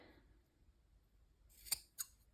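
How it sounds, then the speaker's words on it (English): Scissors snip a small piece of doubled cord, two quick sharp cuts close together in an otherwise quiet room. "I'm just going to hold it double and just snip"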